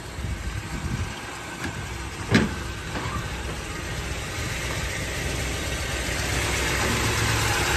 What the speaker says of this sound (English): And there's that Chevy 350 ready for show.